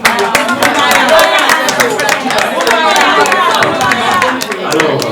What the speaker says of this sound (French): Est-ce qu'on peut au moins applaudir encore ce